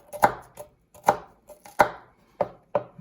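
Shallot and celery stalk are chopped into small pieces for a mussels-in-cream-and-curry dish: about seven crisp, close knife strokes in an uneven rhythm, with short pauses between them and no talking.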